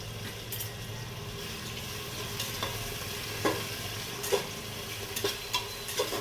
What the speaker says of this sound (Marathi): लसूण तेलामध्ये चांगलं परतून घ्यायचं। जिरं, मोहरी सुद्धा टाकलेलं आहे।